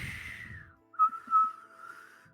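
A voice imitates a whistling snore: a faint, thin whistle drawn out for a moment, a short pause, then a longer wavering whistle with two brief louder swells, alone with no talk.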